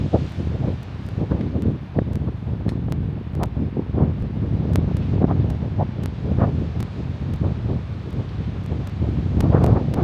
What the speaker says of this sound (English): Or you can probably just hear wind now.